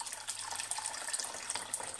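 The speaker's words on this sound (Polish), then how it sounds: "Proszę bardzo, nalewamy wody." Water runs from a tap into a cooking pot in a kitchen, a steady splashing, hissing stream, close and continuous while preparing rice with leek and egg.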